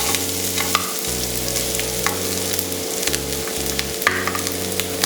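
Grated coconut fries in ghee with cumin, giving a steady loud sizzle with stirring scrapes and occasional clinks, close by and with no voices.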